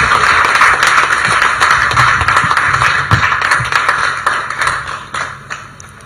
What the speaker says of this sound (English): Can I ask all of us to clap for our dear minister before I invite her?